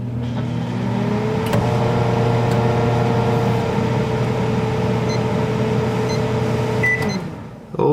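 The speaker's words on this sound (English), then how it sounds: "I got a cup of water in the microwave and I'm just gonna press the express cook" A microwave oven heating a cup of water on a one-minute express cook hums steadily with a low motor drone and turntable whir, near and continuous for several seconds before a brief drop at the end.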